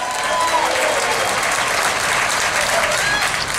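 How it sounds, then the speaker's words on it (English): A crowd gives a rap performer a loud, continuous round of applause, dense clapping filling the whole stretch without a break. "give him a nice round of applause!"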